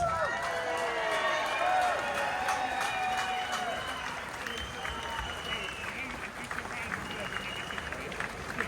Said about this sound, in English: please give a massive, massive round of applause for Elizabeth Harper